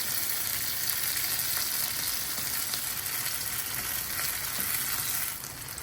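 Continuous hissing sizzle of finely chopped onions frying in oil, close and steady, with faint stirring underneath.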